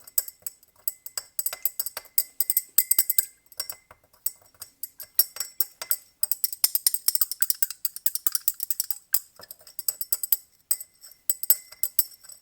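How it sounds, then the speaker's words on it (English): A glass stirring rod swirling copper sulfate solution in a glass beaker gives rapid, bright clinks and taps against the glass, close and irregular, in quick bursts with short pauses. "Get a glass stirring rod and stir until it's dissolved."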